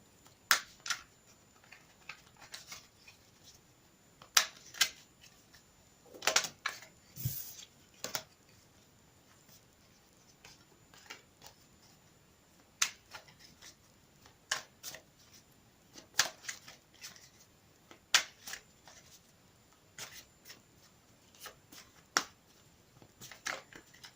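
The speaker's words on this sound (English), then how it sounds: "I'll shuffle them again for you on camera" Quiet, crisp riffling and slapping of tarot cards being shuffled, in repeated short bursts with brief pauses, close up and with no voices.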